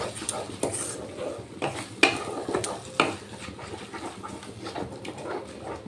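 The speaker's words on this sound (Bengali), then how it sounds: "এবার টক দইটা দিয়ে ভালো করে আমি মশলার সাথে কষিয়ে নেব" Spices and sour yogurt being stir-fried together in a pan over a low flame for prawn curry, with a steady soft sizzle and scraping spoon strokes, including a few sharper clanks against the pan.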